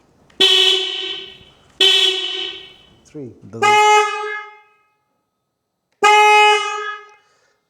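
Denali SoundBomb Mini horn fitted to a BMW R1300GS motorcycle gives four loud, close, sustained blasts of about a second each, with a short spoken word slipped in before the third.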